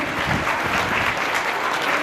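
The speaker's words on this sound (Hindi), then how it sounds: "एक बार इस बात के लिए भी जोरदार तालियां बजा दीजिए।" Steady, dense applause from a crowd at a school investiture and award ceremony, loud and continuous with no pauses, filling the whole stretch without talk.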